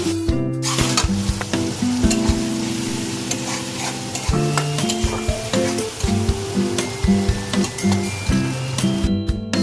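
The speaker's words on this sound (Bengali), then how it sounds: "একটু নাড়াচাড়া করবো যেন টমেটোটা একটু গলে যায়" Tomatoes and ground spices, turmeric and Kashmiri chilli powder, fried in a pan while a spoon scrapes and stirs repeatedly, loud clanking strokes over a continuous close sizzle, with no talking.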